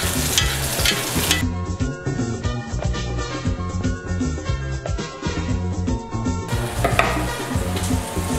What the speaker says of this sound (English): Then I'm gonna sear the steak on both sides.